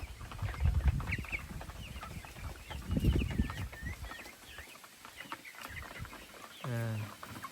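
Rhode Island Red breeder chickens, about 57 days old, cluck and squawk nearby in bursts, with one louder harsh call near the end, under a speaking voice.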